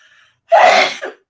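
A single loud, close sneeze bursts out suddenly after a quiet moment, then trails off into a short breathy tail.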